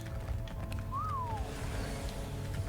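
A single short rising-then-falling whistle, faint and mid-distance, sounds over steady low background hum in the ARK survival game, with no talk.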